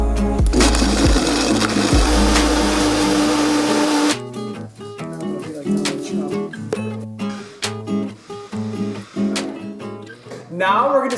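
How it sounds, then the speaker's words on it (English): A high-speed blender roars loudly for about four seconds, then cuts off, followed by softer clatter and background music. "I'm going to be using my high-speed blender."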